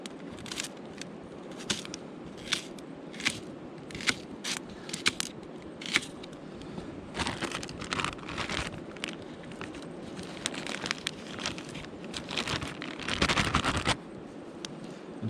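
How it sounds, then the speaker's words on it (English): A knife slices an onion outdoors at a camp, giving soft irregular crunches and scrapes against a board over a steady low rumble of background noise. "you want to cut the core out of the onion before we julienne it up"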